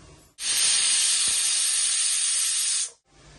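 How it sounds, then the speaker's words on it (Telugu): A pressure cooker on a stove cooking chicken pulao lets out one long, loud hiss of escaping steam lasting about two and a half seconds, starting and stopping abruptly against a quiet kitchen background. "ఇప్పుడు కుక్కర్ మూత పెట్టి 3 విజిల్స్ వస్తే చాలు"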